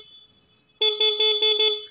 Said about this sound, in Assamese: এইটো আমাৰ ছিগনেল হয় হৰ্ণ মাৰি